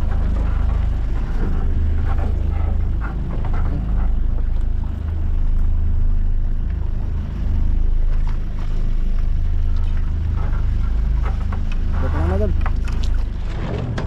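A fishing boat's engine runs as a steady low rumble throughout, loud and close, with water and wind noise and people talking over it.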